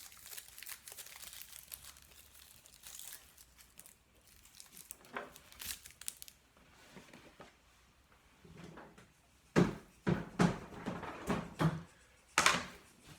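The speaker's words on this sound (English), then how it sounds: "Take some of the loose paper off it." Dry papery skin being peeled off an onion by hand while preparing a red leaf Roquefort salad, heard as soft crinkling and crackling rustles, quiet at first and growing into several louder crisp bursts near the end.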